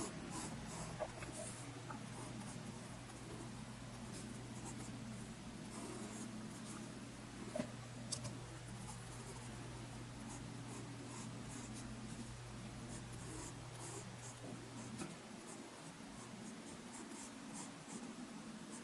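Pencil or pen drawing a figure on paper, a steady soft scratching that runs continuously and close, quiet against a low hum, with no talk.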